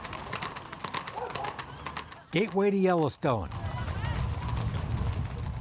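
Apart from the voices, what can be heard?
horses clip-clopping during a horse drive through town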